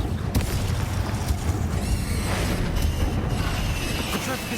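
Confringo fire blast spell in Hogwarts Legacy amid a chaotic fight, with dense booming impacts and crackling noise running throughout, loud and unbroken.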